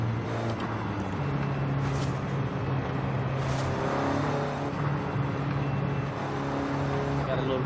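Simulated Mini John Cooper Works GP with its stock engine, driven in a racing video game, giving a steady engine drone with shifting revs throughout, under someone talking.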